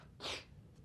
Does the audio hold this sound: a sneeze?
yes